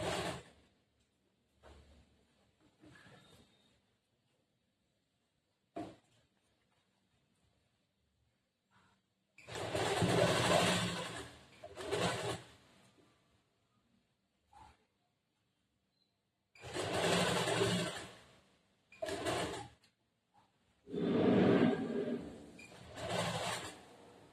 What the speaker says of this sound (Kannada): ಈ ತರ ಸ್ಟಿಚ್ ಮಾಡ್ಬೇಕು ಮತ್ತೆ ಈ ಕಡೆ ಸ್ಟಿಚ್ ಮಾಡುವಾಗ ಇಂಟರ್ನ್ ಮಾಡ್ಕೊಂಡು ಈ ಕಡೆ ಸ್ಟಿಚ್ ಮಾಡಬೇಕು